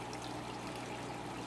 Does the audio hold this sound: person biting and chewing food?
no